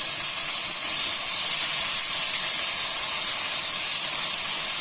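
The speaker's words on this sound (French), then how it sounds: "les merguez commencent à griller" Merguez sausages sizzle while grilling in a pan, a loud, steady, bright hiss of frying fat with no break.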